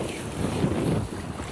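A sailboat runs under a large genoa in 10 to 18 knots of wind at sea, with a brief rush of wind noise and water over a dense low roar and no talking.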